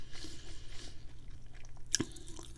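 Close, quiet chewing and biting of crunchy Buffalo Wild Wings chicken wings, soft mouth sounds with one sharper crunch near the end and no talk.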